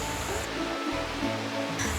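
A stream of water runs down a stretch of rock through trees at the Ath Adiya waterfall in Warakapola, giving a steady rushing wash of water that stays close and even throughout.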